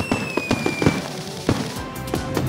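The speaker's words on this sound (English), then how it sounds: "Fireworks to call Super Truck." Fireworks bursting in the Car City World game, a rapid series of sharp pops and crackles at a moderate level, with a faint sustained whistling tone running through the first second.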